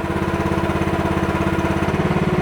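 An MH12RX mini excavator's small engine chugs close and loud with a fast, even pulse, and a slight shift near the end as the boom is raised. No voices are heard.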